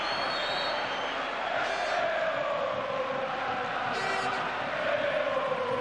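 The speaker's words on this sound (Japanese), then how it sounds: "大きな歓声に包まれています。" Sustained crowd noise at a Padova versus Fiorentina Serie A football stadium, a continuous distant roar with faint swells and brief whistle-like rises above it.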